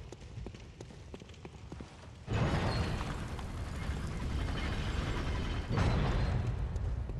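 Heavy door grinding open in Bloodborne, a loud sustained mechanical rumble and creak starting abruptly after a quieter stretch of faint footsteps, surging again near the end.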